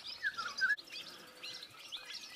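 Golden oriole singing in a tree in Portugal gives a short fluting phrase nearby, followed by softer chirps over quiet woodland background.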